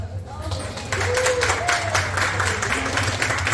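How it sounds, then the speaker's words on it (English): Party guests at a Christmas party break into a round of applause that starts about a second in and holds steady, a dense wash of clapping with crowd voices mixed through it. "give a round of applause"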